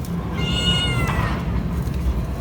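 A cat gives a single clear, drawn-out meow close by, with a quieter low background rumble of an outdoor wood fire around it.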